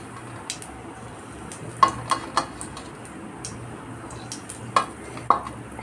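Carom seeds crackle softly in hot oil in a wok, a faint sizzle broken by several sharp ticks and light metallic taps from a utensil, near and quiet with no talking.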